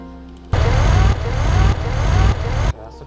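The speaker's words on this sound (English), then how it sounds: "That's the truck sounds." A truck engine in GTA San Andreas roars in loud and close for about two seconds, a heavy, steady low rumble with slight surges in level, then cuts off abruptly.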